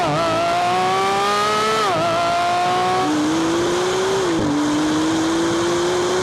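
A Porsche GT3 RS and a Maserati MC20 accelerate side by side in a drag race. Loud engine notes rise together, dip at quick gear changes, then continue as one strained, climbing wail.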